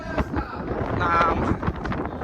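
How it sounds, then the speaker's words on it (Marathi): Strong, gusty wind buffets the microphone at the Narayan gate of Lohagad hill fort, a steady loud roar with sharper bursts throughout and no clear voices. "इथं एवढा वारा सुटलाय ना, म्हणजे भयंकर वारा आहे."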